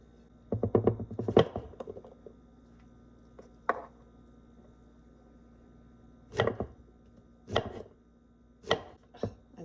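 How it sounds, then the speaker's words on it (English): A knife chops food on a cutting board bound for a crock pot, with a quick flurry of close, sharp strikes followed by a few spaced single chops. "Just want them kind of chopped"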